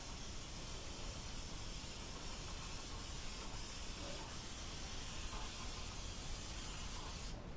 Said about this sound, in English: So just spray it on here.